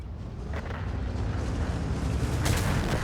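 In World of Tanks, a Death Star tank's HESH shell strikes a heavily armored IS-7, a deep, rumbling explosive boom with sustained low roar and a sharper crack near the end.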